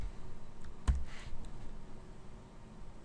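A single sharp computer mouse click, close and fairly quiet, standing alone against a low background hum with no talking.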